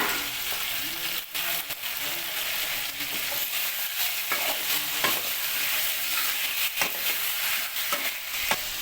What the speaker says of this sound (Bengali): চিকেনটা কিছুক্ষণ ফ্রাই হবে, এই পেঁয়াজের সাথে অয়েলের সাথে কিছুক্ষণ ফ্রাই হবে।